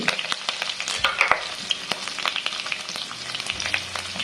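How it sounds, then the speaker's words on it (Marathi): Curry leaves, asafoetida and coconut slices sizzling in a hot oil tempering, sharp crackles and pops over a soft fry, with clicks of stirring scattered through, close and alone. "कढीपत्ता हिंग खोबऱ्याचे काप टाकते"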